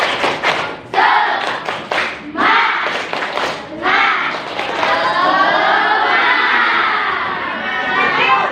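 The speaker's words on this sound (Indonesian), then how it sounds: "Coba tepuk semangat" A classroom of children performs a rhythmic clapping chant, loud, close thumping claps in quick bursts mixed with shouted voices and crowd chatter that swell into continuous noisy cheering.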